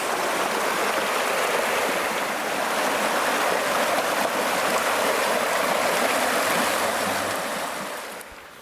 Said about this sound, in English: We got the creek right down there.